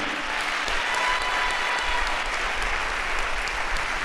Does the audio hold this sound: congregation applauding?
yes